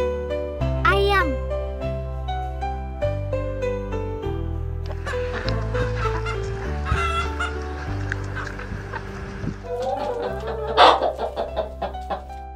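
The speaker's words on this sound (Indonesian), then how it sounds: "Ayam." A chicken clucks and a rooster crows in short bursts over a bouncy children's music backing, with a voice speaking between the calls.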